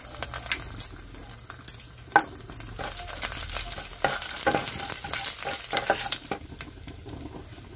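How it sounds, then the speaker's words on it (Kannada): Cumin seeds and broken dry red chillies sizzle in hot oil in a pan, with steady crackling frying and scattered stirring clinks and scrapes, moderately quiet with no talk. "ಅದೇ ಬಾಂಡ್ಲೆಗೆ ಅದೇ ಎಣ್ಣೆಗೆ ಸ್ವಲ್ಪ ಜೀರಿಗೆ ಹಾಕ್ತಾ ಇದ್ದೀನಿ, ಮತ್ತು ಒಣ ಮೆಣಸಿನ್ಕಾಯಿ ಅಂದರೆ ಚಿಲ್ಲಿ ಫ್ಲೇಕ್ಸ್ ಥರ ಮುರಿದು ಹಾಕ್ತಾ ಇದ್ದೀನಿ"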